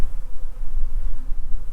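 Honey bees buzzing on a hive frame, a low continuous hum with fluttering wingbeat texture, close and steady, no talking.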